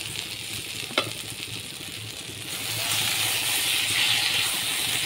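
Shredded cabbage fried in a pan with a little ghee and sugar added, giving a steady close hiss that swells louder partway through, with a brief metallic clink near the start and no voice.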